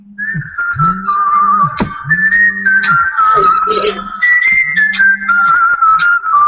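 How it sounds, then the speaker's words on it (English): A mobile phone ringtone plays loud and close: a whistle-like warbling melody over a repeating low pulsed tone, ringing on in an even rhythm. "What is that? That's my phone."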